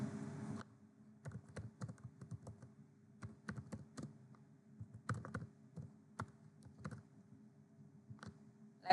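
Quiet keystrokes on a computer keyboard tap in uneven clusters while HTML code is typed, close and faint, with short pauses between bursts.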